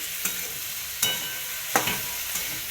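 Potatoes stirred and tossed in a frying pan, with a few distinct scraping clacks of a spoon over a steady soft sizzle, close by with no talking.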